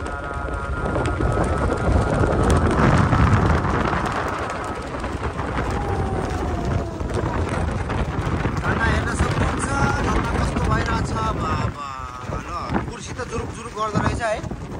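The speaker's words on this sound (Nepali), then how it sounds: "एकदम हावाले हानिरहेको छ" Strong wind roars and buffets the microphone without letup at a high spot in Ramechhap, Nepal, a steady broadband rush while a person talks over it.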